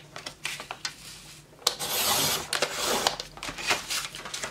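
Card being scored and cut on a scoring board, close scraping and rubbing strokes with light taps, one longer rasping pass in the middle, no talk.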